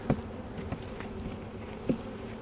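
A small cluster of a few hundred honey bees in a tiny swarm hive gives a soft, low buzz, with a few brief knocks and taps over the hum.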